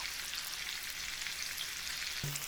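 Mackerel pan-frying skin-side then flipped in a pan with little oil, giving a steady, close, even sizzle throughout, with a brief low clunk near the end and no talking.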